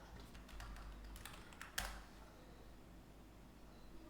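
Fingers tap steadily on a computer keyboard in a quiet room, a string of soft, close clicks with one sharper keystroke partway through, with no talking.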